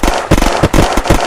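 Loud, rapid bursts of gunfire in an Unturned battle royale match crack close up in quick succession, with brief gaps between shots.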